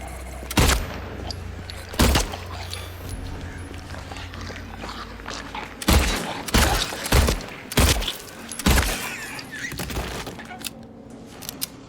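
Sharp gunshots ring out in Silent Hill 2 Remake, about eight close, loud shots: two spaced early, then a tighter cluster of several, over a low ambient hum.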